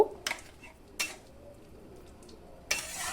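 Three short scraping clatters of a utensil against a pan as drumstick curry is stirred with mustard paste, separated by quiet gaps.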